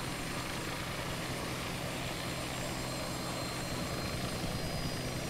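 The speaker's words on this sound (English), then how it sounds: "We're a helicopter. We can land wherever we want." A helicopter in flight on a tour over the Cliffs of Moher, heard from inside as a constant, loud rotor and turbine roar with broad hiss, steady and unbroken, with no talk.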